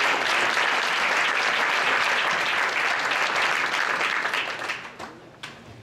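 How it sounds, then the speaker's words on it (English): An audience at an evening public planning meeting for Downtown East Commons breaks into loud, sustained applause, dense clapping filling the room before thinning and tapering off near the end. "So you can clap now"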